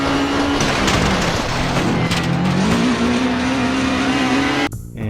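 Rally car engine from the video game Rally Sport Challenge holds a loud sustained drone with shifting pitch and brief tire noise, then cuts off abruptly near the end.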